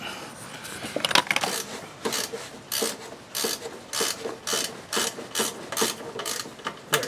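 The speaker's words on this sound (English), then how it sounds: "we'll just tighten that guy up with the ratchet" A ratchet tightens a bolt on the fuel pressure regulator of a 1999 Pontiac Grand Am 2.4L, making close, loud, steady clicking bursts at a regular back-and-forth rhythm, with no talking.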